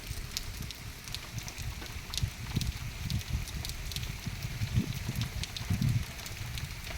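Monsoon rain falling steadily outdoors, a dense continuous hiss and patter with scattered drop taps, wind-like rumble underneath, no talk.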